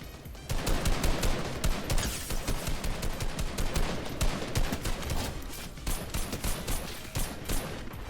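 Rapid, dense gunfire in a battle royale video game, with overlapping bursts of automatic shots crackling continuously for several seconds at moderate volume and no talk.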